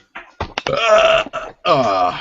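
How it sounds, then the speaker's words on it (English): Someone lets out loud, throaty burps in a series of bursts during a burp-off among friends on a retro gaming live stream, with gaps between the bursts. "Trying to burp off, I need puke."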